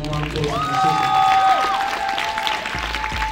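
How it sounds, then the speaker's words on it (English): Applause breaks out from a crowd, steady clapping with a bright whistle-like tone and some background chatter throughout. "let's give her a round of applause"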